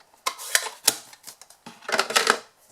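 Scissors or a paper trimmer cut card for a chocolate stocking box in short crisp snips, a few separate cuts followed by a quick cluster of them, close and clear with no talking.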